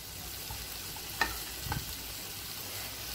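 Drumstick curry being stirred in a pan, a single brief scrape of the spoon followed by a short burst of soft sizzling, alone over a quiet background.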